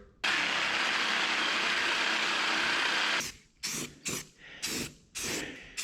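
Aerosol spray can hissing onto the cowl of a 1967 Toyota Stout during a body swap, one long steady burst of about three seconds followed by four short close bursts in quick succession.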